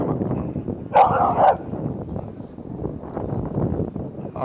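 A dog at a group obedience training class gives a short, sharp burst of two barks close by. A low murmur of background noise runs before and after the barks.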